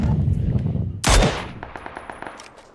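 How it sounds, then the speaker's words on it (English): Gunfire in the video game PUBG, a sharp loud gunshot burst followed by a rapid rattle of automatic fire that fades out, with a player's voice talking under the opening. "Why are you shooting?"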